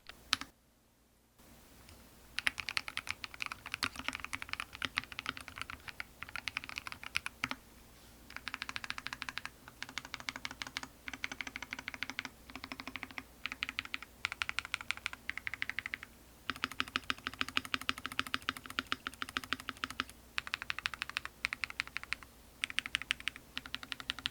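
Typing on an Anne Pro 2 mechanical keyboard with purple keycaps, compared with a sponge pad and a homemade silicone pad inside, gives steady bursts of close, crisp key clacks in flowing runs separated by short pauses.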